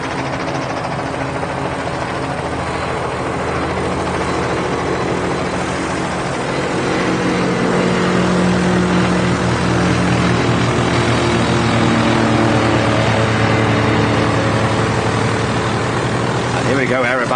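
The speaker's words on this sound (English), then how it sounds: "C-42 on the roll." A C-42 light aircraft rolls for takeoff at Barton Aerodrome in Manchester during a fly-in event, a steady loud propeller-engine drone that swells slightly midway, with a voice heard over it.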